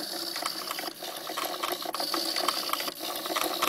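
A prototype Discovery winch turns its ratchet and pulley mechanism, giving a rapid run of small clicking, ticking pawl sounds at close range, fairly quiet and continuous with no talk.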